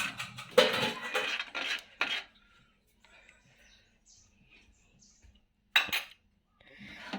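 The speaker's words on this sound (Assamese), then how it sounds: "আৰু এতিয়া এইখিনি ধুনীয়াকৈ লৰাই ল'ম এবাৰ।" A spoon stirs date-juice rice pudding with raisins in a pot, making a close burst of scraping, clinking strokes for about two seconds, then near silence before one more short clatter of the spoon against the pot.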